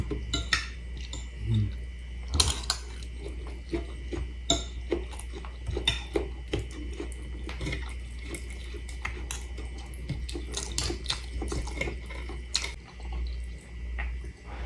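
Dishes and plates are washed in a condo kitchen: frequent clinks and clatters of plates and utensils, irregular and close, over a steady low hum, with occasional water sounds and no talking.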